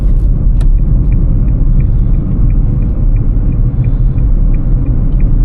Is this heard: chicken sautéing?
no